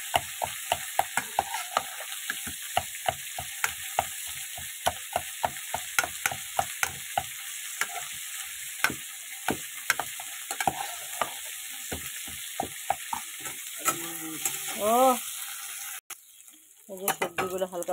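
Vegetables frying in a pan in a home kitchen, with a steady sizzle and a busy run of sharp scraping and clinking stirs from a utensil, and a brief voice near the end before the sizzle settles.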